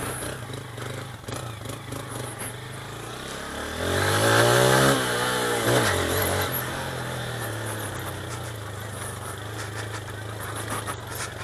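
A Honda Titan 160 motorcycle ridden slowly along a dirt trail, its mid-pitched engine running steadily, swelling into a brief rev in the middle and then settling back to a low, even throttle.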